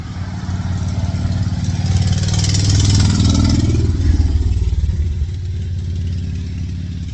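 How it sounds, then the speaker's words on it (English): A motorcycle passes close by, its clattering engine drone swelling loud toward the middle and fading away again, heard on its own without talking. "Motorcycle."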